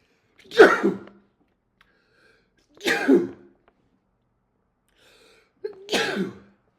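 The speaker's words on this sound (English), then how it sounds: "series of sneezes because it was 3." Three loud sneezes ring out one after another, each a sharp burst separated by a couple of seconds of quiet.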